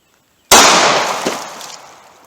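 A single loud, sharp report from a Ruger LCP .380 pocket pistol firing a Winchester PDX-1 95-grain jacketed hollow point into denim-covered jugs, with a long decaying outdoor tail, no voices.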